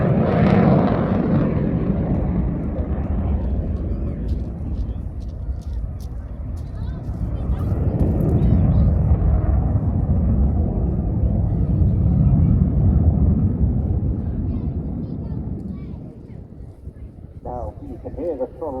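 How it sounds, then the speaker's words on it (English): Airshow aircraft engine easing back on the throttle during a slow barrel roll, a loud, steady roar that swells and then gradually softens, with commentary talking over it. "can hear the throttles coming off a little bit, getting into a very slow barrel"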